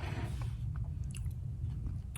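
Someone eating leftover tacos, with soft close chewing and biting, quiet and continuous against low background noise and no talking.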